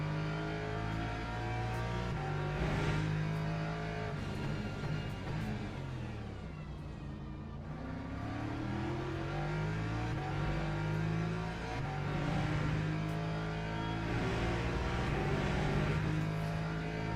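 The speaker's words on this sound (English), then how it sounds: "The BMW is so good on the acceleration." A BMW race car accelerating hard in a racing video game, the engine note climbing through gears with a brief dip mid-run before pulling up again, loud, close and continuous without speech.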